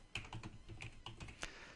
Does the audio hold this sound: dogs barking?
no